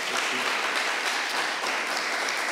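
Audience applause at the closing of a regional conference in Montpellier, a dense, steady wash of many hands clapping at moderate distance without pause.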